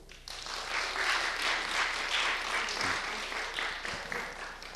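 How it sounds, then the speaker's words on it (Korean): A church congregation at a Sunday service breaks into sustained applause, a dense, even wash of clapping that swells quickly and holds at moderate level throughout. "자, 박수."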